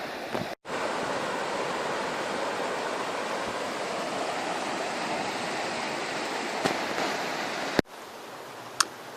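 Steady broadband rush of a river flowing at a crossing along a walking track, loud and continuous for the whole stretch, with a brief dropout near the start and a couple of short clicks and taps later.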